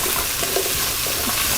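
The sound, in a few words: carrot and celery sizzling in a pan with lamb shanks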